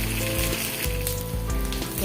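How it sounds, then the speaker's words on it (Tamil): Fish frying in oil on a low flame, a dense continuous sizzle with crackling bursts, close and fairly loud throughout with no voices. "லோ ஃப்ளேமில் வச்சு வறுக்கணும்."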